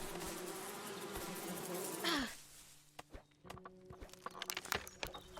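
Bees buzz in the frontier survival game Above Snakes, a dense loud drone that cuts off sharply after about two seconds and leaves scattered footsteps and thin, fainter buzzing.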